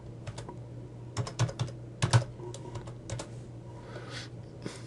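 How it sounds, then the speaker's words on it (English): Keys clack on a computer keyboard in short irregular bursts of taps, close and fairly quiet, with brief pauses between clusters of keystrokes. "I'll type in title block in all caps."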